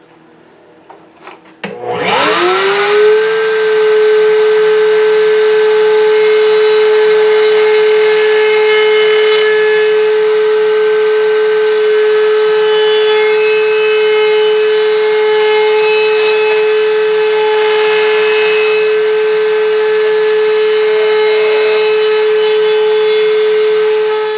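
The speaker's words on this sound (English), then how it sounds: "I've got a 1/8 inch diameter round over bit in my router table, and we'll just run it all the way around." A router table fitted with a 1/8 inch round over bit spins up with a sharp whine, then runs loud and steady for about twenty seconds as wood edges are routed around a small phone stand, with slight changes in load.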